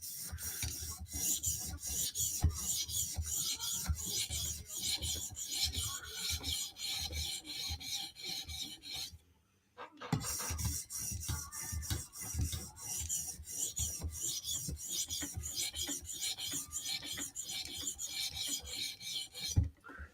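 Steady back-and-forth rasping of a Spyderco Slysz Bowie knife blade being drawn across a 400 grit stone, rapid even strokes close up, with a brief pause midway before the strokes resume.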